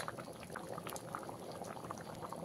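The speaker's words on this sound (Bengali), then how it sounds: "এবারে অল্প কিছু সময় ফুটিয়ে নেব। এটা খুব সুন্দর ফুটে গেছে।" Vegetarian pea ghugni bubbling in a pot, a dense steady simmer of small popping bubbles at close range, continuous and even throughout with no talk.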